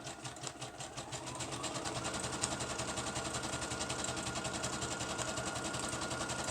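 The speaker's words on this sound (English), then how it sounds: "And I'm going to turn and sew up the top of this part." A sewing machine stitches across the top of a junk journal page, running with a fast, steady mechanical chatter that starts softly and then holds at an even, close level without pause.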